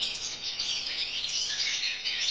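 Birds in an aviary chirp and sing in a dense, continuous chorus of high, overlapping calls at steady volume.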